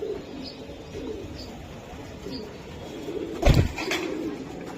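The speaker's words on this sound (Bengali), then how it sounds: "অনেক মানে স্ট্রং কবুতর" Racing pigeons coo softly in a loft, with low throaty murmurs under a steady background hiss and a brief louder thump or flutter near the end.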